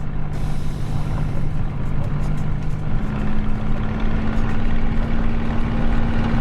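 A Spitfire's piston engine runs at full throttle in a flight simulator, a loud, steady drone with a sustained low tone that shifts slightly upward partway through and holds without a break.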